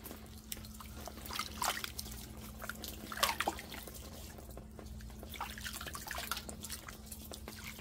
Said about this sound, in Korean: 자, 물에다 이렇게 씻어 줄게요.